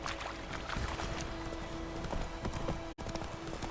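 Steady clip-clop of the horse Roach's hooves in The Witcher 3, a brisk regular rhythm with faint ambient rustle underneath and no talk.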